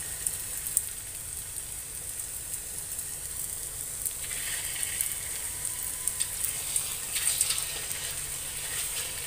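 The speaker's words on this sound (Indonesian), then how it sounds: "Okey, minyak kita pun dah panas, boleh dah kita goreng ya." Cheese-filled Malaysian cucur kembung batter deep frying in hot oil gives a steady close sizzle and crackle, swelling with brighter popping bursts in the second half, no talking.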